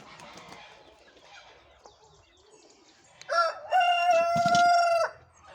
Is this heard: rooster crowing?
yes